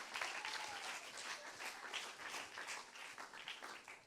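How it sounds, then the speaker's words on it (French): A church congregation at a Sunday service applauds, sustained clapping from many hands filling the room evenly for several seconds without talk. "On l'applaudit."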